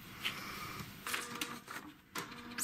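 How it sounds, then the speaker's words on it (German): An inkjet or home office printer feeding and printing a freshly made page, with a steady mechanical whir and several short bursts of carriage movement, heard close and alone. "gleich hört ihr den Drucker nochmal, weil ich habe das gerade taufrisch ausgedruckt"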